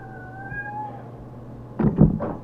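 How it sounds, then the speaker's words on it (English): A cat meows twice, close and fairly loud, after a quiet stretch with a faint high whistle-like tone in the background. "Never mind, that's my cat."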